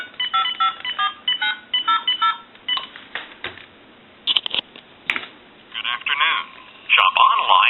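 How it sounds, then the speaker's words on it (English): An old Stromberg Carlson wood wall telephone converted for touch-tone dials a time and temperature number, with rapid bursts of DTMF keypad tones followed by clicks and the recorded line answering with a spoken announcement. "Then what we can do is take another telephone. We'll dial a time and temp and then hang up."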